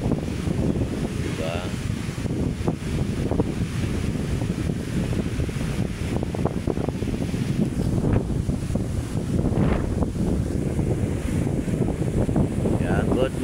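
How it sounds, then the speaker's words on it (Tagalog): Strong wind buffets the microphone over choppy waves at Manila Bay, a constant loud roar with splashing surf, continuous and close. "Lakas ng alon. Lakas pa ng hangin."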